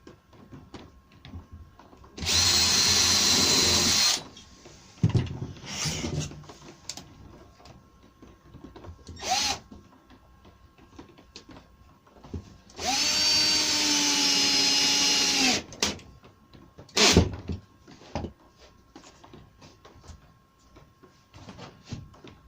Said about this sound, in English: I've got my router with a little 45-degree cutter in it